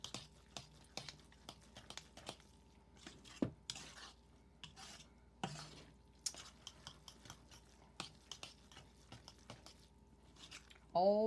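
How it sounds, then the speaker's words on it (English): A fork stirs and mashes homemade Nutina mixture in a bowl, with irregular scraping and squishing strokes at close range and a brief clink near the end. "Now I'm going to mix that in"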